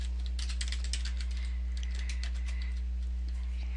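A password goes in on a computer keyboard as a quick run of faint, irregular key clicks over a steady low electrical hum.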